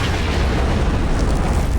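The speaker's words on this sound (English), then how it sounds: "There are a lot of explosions" Explosions in a Star Wars battle scene on Jedha, a dense continuous wall of booming blasts and rumble, loud and sustained throughout without any voices.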